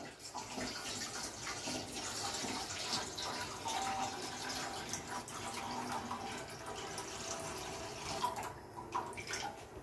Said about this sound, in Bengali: এখন আমি ভাতটা করার জন্য জল দিয়ে দিব।